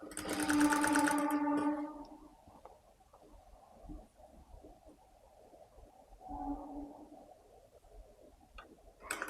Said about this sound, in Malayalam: എന്നിട്ട് ഫുള്ളായിട്ട് സ്റ്റിച്ച് ചെയ്തെടുക്കുക കേട്ടോ.